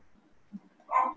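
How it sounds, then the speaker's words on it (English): Somebody's dog barking in the background, a faint short yap followed by a louder, slightly distant bark. "Somebody's dog is barking in the background."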